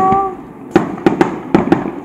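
Fireworks set off at a home celebration go off in five sharp, fairly close bangs spaced irregularly, after a faint whistling rise at the start.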